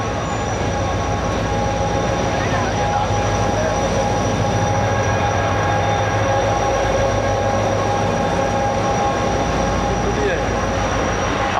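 The 12DN Hazara Express passenger train led by locomotive 8224, rumbling steadily from inside the coach with a constant low roar, humming tones and rattling along the track, while a voice talks over it.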